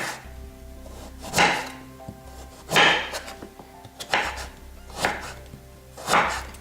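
A knife chops chives and pork bacon on a board for Chinese spring roll filling, with five or six separate loud chops spaced about a second apart over a low steady hum.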